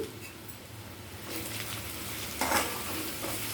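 Onions frying with turmeric sizzle in a pan while being stirred, a steady close hiss with a few louder scrapes and clinks of the spoon against the pan.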